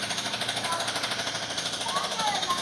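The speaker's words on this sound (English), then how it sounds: "it still sounds like construction is going on" A jackhammer rattles in rapid continuous bursts at a moderate distance in Cartagena, Colombia, mixed with general outdoor construction noise.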